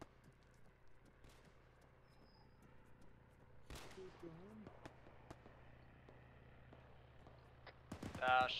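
Gunfire in a military video game, faint and distant, with a sharper burst partway through and a further cluster of shots at the end, beneath low background rumble and occasional voice chat.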